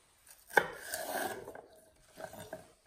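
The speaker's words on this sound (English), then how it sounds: "I'm going to take the three stalks and cut them lengthwise" A knife slices lengthwise through three vegetable stalks on a cutting board with a few soft, quick cutting strokes and a sharp tap at the end, close and fairly quiet. No one speaks.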